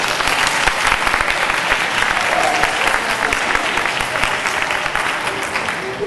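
An audience at a movie and cosplay convention in Lucca applauds a voice actor standing for a Fist of the North Star trailer presentation, producing sustained, even clapping throughout with no speech over it.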